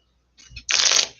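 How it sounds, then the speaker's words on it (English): Pokémon trading cards shuffled by hand at a tabletop match: a short soft riffle, then a dense, close burst of flicking card edges lasting about half a second, with no talking over it. "I believe I will shuffle."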